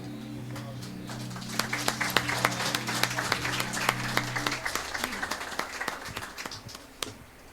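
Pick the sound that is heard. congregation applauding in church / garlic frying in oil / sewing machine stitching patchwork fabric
congregation applauding in church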